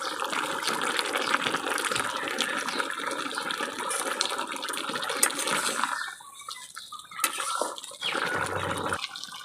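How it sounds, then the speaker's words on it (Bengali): Heated water poured into a pan of cooking jackfruit and potato, a steady gushing splash for about six seconds, then a short pause, a brief second pour and a trailing trickle. "গরম করে রাখার জলটা দিয়ে দিলাম।"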